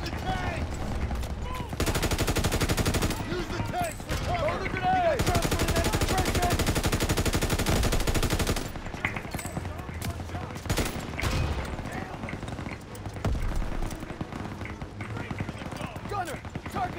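Sustained machine gun fire from enemy gunners in a WW2 battle in Call of Duty: WW2, loud dense bursts hammering for several seconds and then dropping to scattered shots, with people talking throughout.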